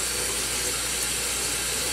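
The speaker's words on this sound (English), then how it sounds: "as that butter melts, we are going to add some water" Hot water pours into a pan of melting butter, giving a continuous rushing splash for two seconds.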